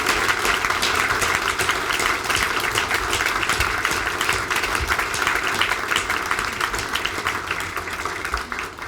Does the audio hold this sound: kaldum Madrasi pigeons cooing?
no